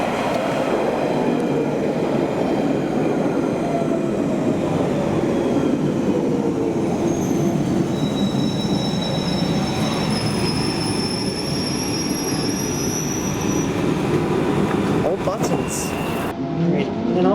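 A train rumbles steadily and slows, wheels squealing in high drawn-out tones as it draws into the Epping terminus station; loud and continuous throughout.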